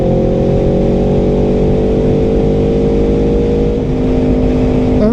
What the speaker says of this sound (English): Plus the sound of motorcycles.